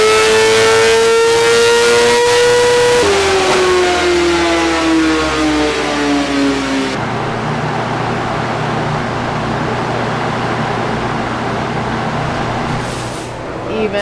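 A BMW race motorcycle built for a Bonneville speed record above 200 mph revs loudly up close, holding a steady tone before dropping in pitch, then breaking into a broad, continuous roar.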